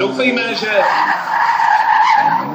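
A 240-horsepower turbocharged Toyota drift car skids around a track at Sosnová, its loud tire squeal and engine roar sustained for about two and a half seconds under a commentator's voice.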